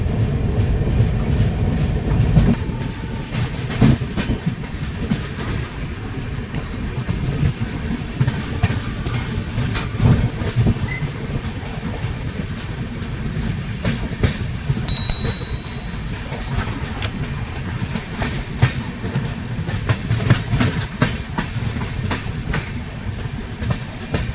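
Tamralipta Express passenger train rolling on rails near Santragachi Junction, a steady loud rumble with clickety-clack wheel beats throughout and a brief high squeal midway.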